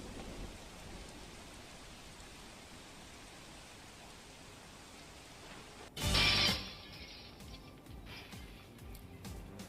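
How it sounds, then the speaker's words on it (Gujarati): Steady rain falls across a city street in Porbandar, Gujarat, a broad even hiss that continues without pause, broken halfway through by a brief louder burst of splashing or rumble. "અચાનક વરસાદની શરૂઆત થતાં"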